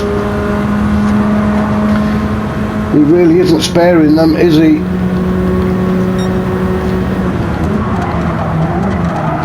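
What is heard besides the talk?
race car tyres squealing, video game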